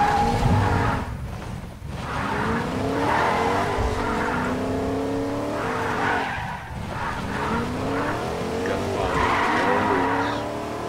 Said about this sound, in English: Now I can actually find an escape vehicle, like this truck.